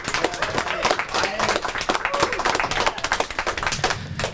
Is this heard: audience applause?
yes